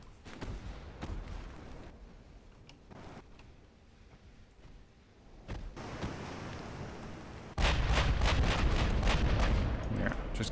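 Heavy battleship guns, including 16-inch main batteries, fire in a naval battle video game, with scattered booms giving way to a loud, dense salvo of repeated blasts near the end.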